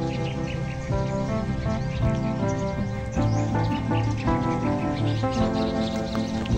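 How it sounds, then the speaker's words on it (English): Many birds chirp and call continuously at a Filipino tropical resort, a dense layered chorus of tweets over steady ambient noise, fairly close and without talk. "here there is a lot of birds"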